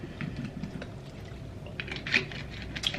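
Someone takes a small sip of Smart Water bottled water indoors. Faint, soft slurping and liquid sounds come with a few quiet clicks and a slightly louder swallow partway through, and nothing else is heard.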